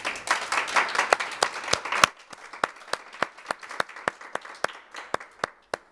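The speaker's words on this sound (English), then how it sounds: "I think they deserve a round of applause." Audience at a community mental health forum on adolescent mental health applauds its speakers: a dense burst of clapping that thins after two seconds into scattered, evenly spaced single claps, fairly close.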